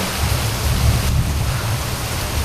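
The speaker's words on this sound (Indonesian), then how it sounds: "suara-suara hujan dan petir ya" Steady heavy rain hisses loudly while low thunder rumbles continuously beneath it, no talking.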